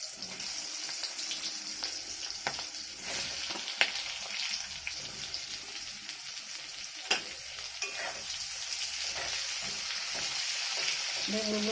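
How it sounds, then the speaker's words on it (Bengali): Salted eggplant pieces fry in hot oil in a pan with green chilies, giving a steady, close crackling sizzle with occasional stirring clinks, and no talking throughout. "বেগুনগুলোকে ভালো করে ভেজে নেবো।"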